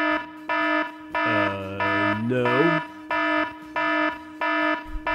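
A stolen-phone alarm in a video game blares in repeated loud buzzing pulses with a rising and falling siren-like tone in the middle, and a voice speaks briefly over it.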